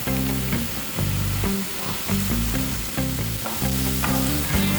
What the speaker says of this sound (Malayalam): സവാള ഒരുവിധം ബ്രൗൺ കളർ ആകുന്നത് വരെ വഴറ്റേണ്ടതുണ്ട്.